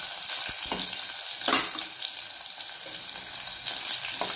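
A thinly sliced medium onion fries over a low gas flame in a pan for a Bihari-style chana sabzi, making a steady, close sizzling hiss with a few small stirring clinks.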